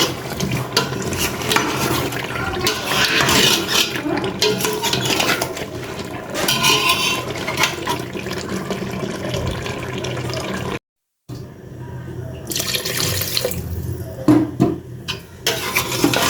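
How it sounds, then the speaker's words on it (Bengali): Water is poured into a pan of potato curry, a splashing gush mixed with clattering pan and utensil sounds, broken by a brief silent cut partway through. "তো কষানোর পরে আমি ঝোলের পানি দিয়ে দিচ্ছি"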